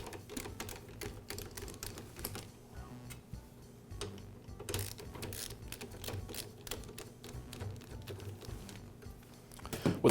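Screws being worked out of the belt guard on a Husqvarna lawn mower transmission, producing faint, close, irregular ticks and small metallic clicks with no talking.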